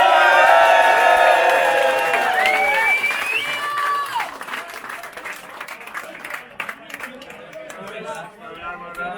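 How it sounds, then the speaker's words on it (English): A crowd at a charity car rally awards night claps hard with whoops and cheers, loud and full at the start. It then tapers into scattered clapping and murmured talk. "Big round of applause, ladies and gentlemen!"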